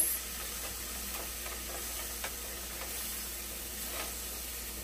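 A vegetable curry cooks down in a pot, a soft steady sizzle and hiss with faint ticks and bubbling pops, fairly quiet and continuous with no voices.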